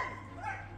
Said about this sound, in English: There's a load of dogs running around, yeah.